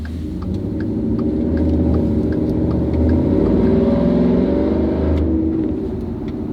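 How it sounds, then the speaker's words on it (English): A Ford Raptor truck engine runs with a steady, loud low rumble that swells slightly mid-way, close by and with no voices over it. "Does sound good though. Truck sounds good."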